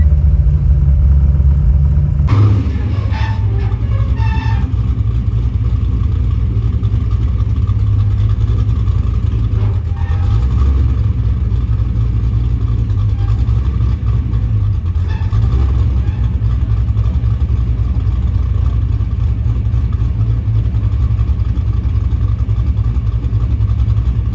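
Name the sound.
LS3 V8 engine idling in a drift FRS car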